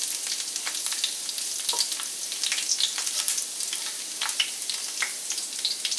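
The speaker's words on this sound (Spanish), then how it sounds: "A mí me gusta el ajo bien doradito" Garlic sizzles steadily in a hot pan for Mexican-style beef tacos, a dense continuous crackle with scattered sharper pops, close and fairly loud with no voices.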